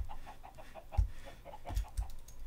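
Chickens cluck in a video game, a quick run of short, evenly spaced clucks at moderate volume, with a few soft low thumps scattered among them and no one talking.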